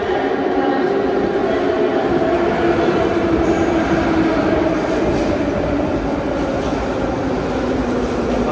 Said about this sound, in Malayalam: ദൂരെ ട്രെയിൻ വരുന്നുണ്ട്, അതേപോലെ തന്നെ അതിനകത്ത് കാറ്റും വരുന്നുണ്ട്